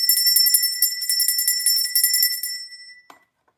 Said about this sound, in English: I notice when I ring the bell